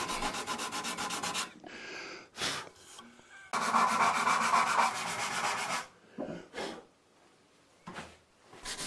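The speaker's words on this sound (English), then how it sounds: "There's a lot of sanding, but eventually the interesting grain pattern of the blade shows through." Hand sanding a wooden Damascus-style knife blade: long, harsh abrasive strokes in close-up, separated by pauses and short scrubbing passes, with no talk.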